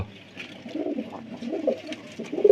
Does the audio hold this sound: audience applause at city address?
no